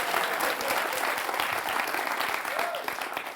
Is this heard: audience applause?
yes